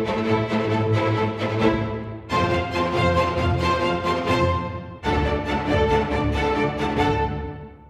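Three orchestral phrases from the Grosso plugin play together as a triad, loud full ensemble swells in three sections, each starting sharply and fading at the end, with no talk.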